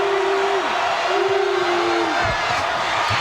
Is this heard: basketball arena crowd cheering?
yes